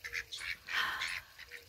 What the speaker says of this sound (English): I like that background quacking